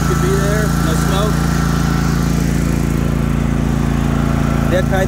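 A Toro TimeCutter SS 5000 50-inch zero-turn riding mower's engine runs at a steady, smooth, loud drone close by, with a person talking over it in places.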